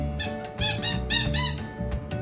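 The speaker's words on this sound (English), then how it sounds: "How about a squeaky duck?" A squeaky rubber duck being squeezed, giving a handful of sharp, close, bright squeaks in an uneven rhythm with short pauses between them.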